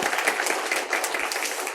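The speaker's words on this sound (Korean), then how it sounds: "힘있게 잘 다녀오시도록 박수로 한번 격려하겠습니다" Brief, lively clapping from a church congregation during Sunday worship, encouraging members about to depart on a trip, with steady close hand claps throughout.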